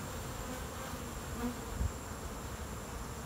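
Steady, low buzzing of many honeybees swarming close by at hives after a storm, a continuous hum with no voices.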